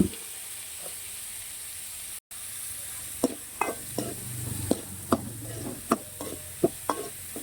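Turkey berries sauté in a pan under a steady sizzle, stirred with a regular series of sharp scraping knocks from the spoon against the pan, close and clear with no talking.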